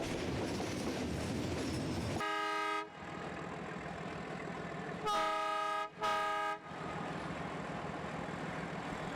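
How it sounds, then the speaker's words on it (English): Metre gauge passenger train running near Mailani, India, in the open outside a forest at around 50 km/h: steady rolling rumble and clatter throughout, broken by several loud, sustained horn blasts, one long and then two shorter ones close together. "Outside the forest, the train increases its pace"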